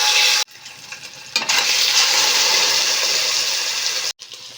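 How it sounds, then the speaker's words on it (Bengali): Katla fish sizzles steadily in hot mustard oil in a wok, a loud, even frying hiss broken by two brief silent gaps. "মাছ আমি একদম হালকা ভাজবো।"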